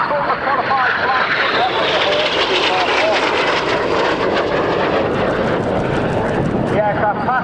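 Aircraft flying past at an RAF Cosford air show, fitted with smoke pods underneath, make a loud, sustained engine roar that fills the whole stretch, with a commentator's voice running over it.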